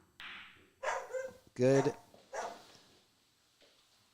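A dog barks outside a pool hall during a Chalkbox match, a few loud barks mixed in with nearby talk, one bark standing out clearly before the voices continue.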